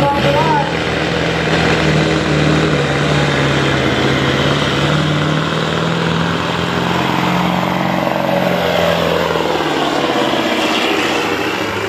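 A Mack Superliner V-8 semi truck at a truck pull roars with a loud, sustained drone and a whining turbocharger, its pitch drifting and sinking near the end, while an announcer talks over the noise.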